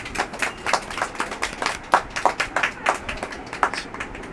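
A small audience at a Bengali poetry recitation gathering in a bookshop claps for a singer, with distinct, uneven hand claps landing in a loose rhythm rather than a dense roar.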